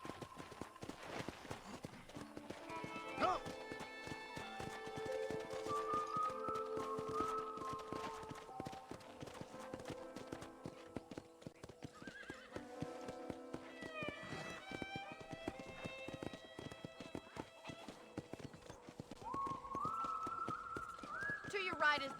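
Horse hooves in the video game Red Dead Redemption, a steady clip-clop rhythm under game music and character dialogue, with a voice calling out once.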